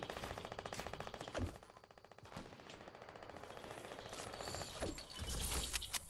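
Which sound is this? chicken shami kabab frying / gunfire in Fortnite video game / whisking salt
gunfire in Fortnite video game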